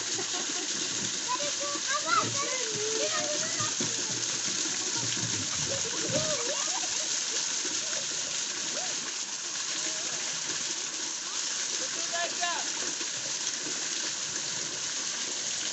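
Water splashing in a clear mountain stream, a steady broadband wash that runs for the whole stretch, with birds chirping and a voice heard faintly in the background.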